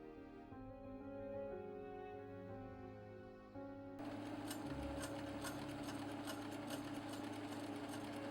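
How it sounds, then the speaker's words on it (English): A sewing machine runs steadily while stitching around the edge of a vest, a fast, even mechanical whir and tick heard close up after a few seconds of a soft sustained tone. "I machine stitched around the outside first"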